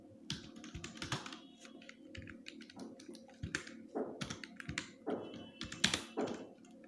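JavaScript code being typed on a computer keyboard: steady bursts of close, crisp key clicks and taps in an irregular rhythm, with a few louder keystrokes, no voice.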